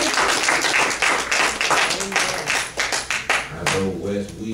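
Church congregation claps hands in rhythmic bursts, close and lively, mixed with voices and a few sung or called-out tones near the end.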